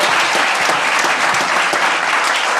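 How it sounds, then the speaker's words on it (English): A seated audience gives a round of applause for a candidate panel at the close of a discussion on youth employment, a steady dense patter of many hands clapping close by, with no voices over it. "how about a round of applause for our panel?"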